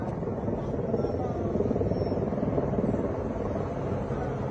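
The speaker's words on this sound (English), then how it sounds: "These are just mere choppers" Helicopters fly overhead with a steady, dense, droning rotor buzz that holds at an even level throughout, distant but continuous.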